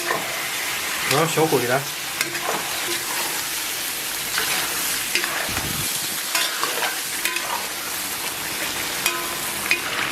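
Pickled cabbage stir-fried in a wok with a splash of dark soy sauce, loud continuous sizzling with scraping spatula strokes and clatter, someone speaking briefly over the cooking.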